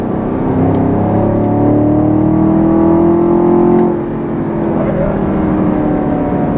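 A 2020 Chevrolet Camaro 2SS V8 with a 10-speed automatic pulls through third gear, its steady engine drone holding loud and close for about four seconds before easing off to a lower hum.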